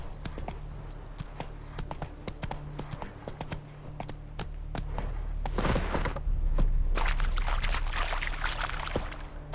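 Roach the horse's hooves clop in a steady rhythm in Witcher 3, close and clear over a low ambient hum, growing busier and louder partway through as the pace picks up.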